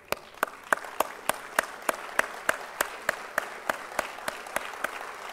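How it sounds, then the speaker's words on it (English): A crowd at a graduation convocation claps in slow, steady unison, producing sharp, evenly spaced beats about three per second. The sound is fairly quiet and distant, with a soft murmur underneath. "give a thunderous applause to all the people"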